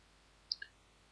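Two crisp computer mouse clicks in quick succession, faint and isolated against a low, quiet background hum.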